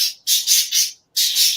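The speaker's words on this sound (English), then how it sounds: "Shut up, bird." A pet bird squawks loudly and harshly in a few bursts, four close together, then a pause and two more, with no one talking.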